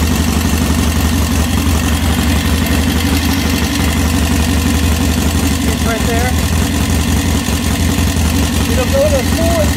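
A 1967 Triumph T100C desert sled barn-find motorcycle engine runs loud and steady at close range, a constant idle-like drone throughout with a faint rising tone near the end.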